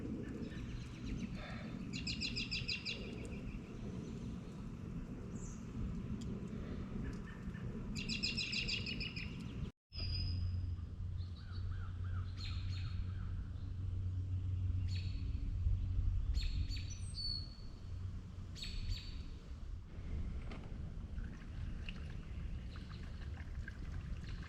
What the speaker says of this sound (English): I'm surrounded by birds.